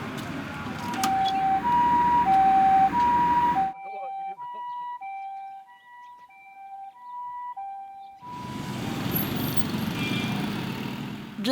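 A loud ambulance siren wails in a steady two-tone cycle, first over heavy traffic and road noise, then alone and clearer, before street rumble returns.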